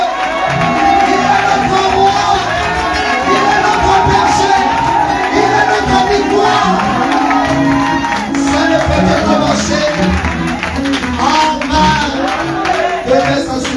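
A French-speaking church congregation cheers, shouts and whoops loudly and without pause, with scattered clapping from a full crowd throughout.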